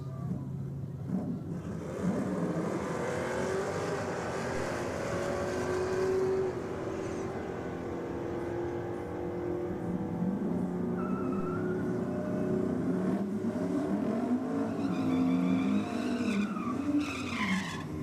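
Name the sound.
early and late Ford Mustang drag racing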